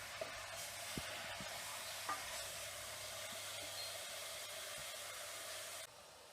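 Meat browning in a pan over high heat for a winter stew, giving a continuous loud hiss and sizzle with a few faint clinks of stirring, and no talking.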